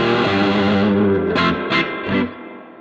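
Electric guitar played through heavy fuzz distortion and reverb, a sustained distorted chord ringing out followed by a few short stabbed chords that decay into a reverb tail, loud and alone.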